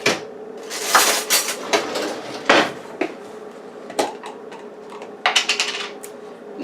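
Metal spoons and cutlery clink and clatter in a home kitchen while turkey salad is made, several sharp bright knocks scattered unevenly, close and fairly loud with no voices.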